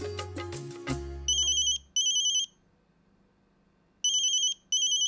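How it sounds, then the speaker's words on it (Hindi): A telephone rings late at night in a quiet home, sounding as repeated loud electronic ringtone bursts with short pauses between them, right after a few fading musical notes. "ये इतनी रात को किसका फोन आया?"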